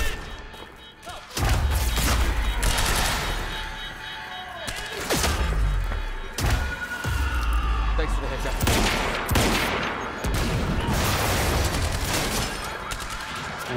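Explosions and gunfire in the video game Quantum Break: a string of heavy booming blasts and crashes with scattered shots between them, loud and close throughout.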